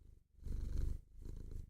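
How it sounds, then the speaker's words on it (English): A female cat purring up close, a low rumbling motor sound in two rhythmic cycles, with a brief pause for breath between them and no talking. "You guys hear her purring?"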